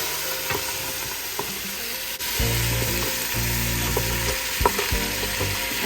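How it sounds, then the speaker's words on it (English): A hot pan of venison is deglazed over high heat, sizzling loudly and steadily while a wooden spoon scrapes across the bottom in several distinct strokes. "we're just going to scrape the pan with this wooden spoon"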